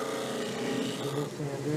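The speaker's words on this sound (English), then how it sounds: "So we do a little cleanup on the disc sander." Disc sander smoothing the edges of a wooden bandsaw-cut reindeer, a steady close rasping rub over a humming motor, continuous through the short stretch.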